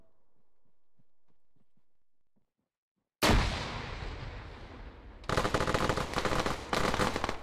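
Gunfire in a capture-the-flag video game during a CTF Masters Cup quarterfinal match: near-silence with faint ticks, then a sudden loud barrage that swells into a denser second burst of rapid shots, with no voices.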